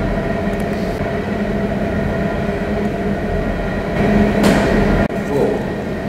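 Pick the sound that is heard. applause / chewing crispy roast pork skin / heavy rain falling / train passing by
train passing by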